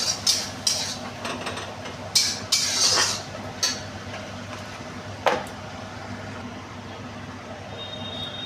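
Spoon scraping and clinking in a pan as chilli powder and coriander powder are mixed, for a mung dal with rohu fish head; scattered sharp clinks and scrapes over a steady low hum, with no talk.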